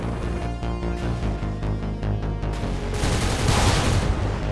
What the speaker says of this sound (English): Hey, taking shots over here at the docks.